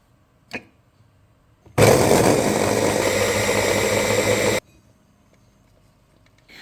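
A food processor grinds a honey cake layer into crumbs, a loud steady whirring burst lasting about three seconds, with quiet room noise before and after.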